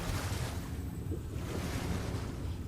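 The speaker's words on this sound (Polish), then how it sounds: "to jest biom oceaniczny, tu powinno być właśnie dobrze rozwinięte morze" Steady surf and rolling ocean waves wash through the ocean biome of the video game Ark Genesis, a continuous broad hiss with wind-like rushing and no voices.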